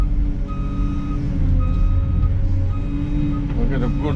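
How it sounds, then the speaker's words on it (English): Steady, regular reversing beeps sound from a Liugong or Mecalac excavator on a pond dam building site, loud and close over a rumbling diesel engine, with someone talking. "You couldn't have that beeping like that through a building site"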